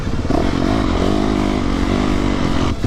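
Loud, close motocross motorcycle engine held under aggressive throttle during an endurance race, a harsh continuous buzzing rasp that stays steady and drops off abruptly near the end.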